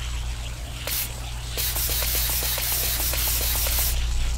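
Steady hissing spray from a can in the FNAF: Help Wanted 2 video game, with short bursts giving way to a continuous loud spray and faint clicking ticks beneath.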